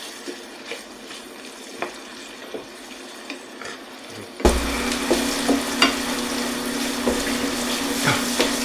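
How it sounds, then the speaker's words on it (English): Chopped celery and onion sautéing in a hot pan, a steady close hiss and sizzle that jumps up suddenly partway through as the vegetables hit the pan, with occasional stirring taps. "we're going to saute these pretty much only until the celery has softened and the onion turns translucent"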